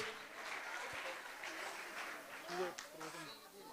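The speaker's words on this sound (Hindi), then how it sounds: "जोरदार तालियां इन बच्चों के लिए।" Steady applause from an audience fills the whole stretch, with faint voices and scattered noises underneath.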